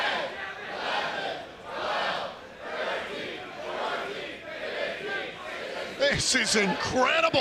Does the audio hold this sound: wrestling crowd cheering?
yes